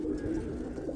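A roller pigeon cooing in a loft, a soft low continuous coo held for about a second, close and steady.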